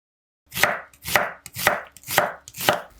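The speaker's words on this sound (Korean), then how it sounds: "양파는 수직 방향으로 가늘게 썰어 냄비에 넣어줄게요." A knife chops onion on a cutting board in five evenly spaced, crisp strikes about half a second apart, close and distinct with no talking.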